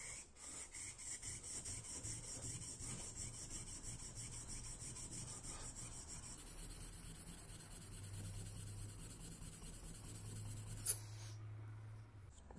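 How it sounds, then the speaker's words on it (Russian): Pruning shears with a nicked blade being ground flat against an abrasive, a steady scraping rub that runs continuously for about twelve seconds, close and unbroken, with a brief sharp click near the end. "Ну и также вот эту часть немножко шлифанем."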